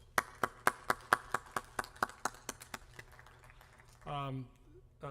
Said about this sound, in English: Let's give Mr. Rector a round of applause.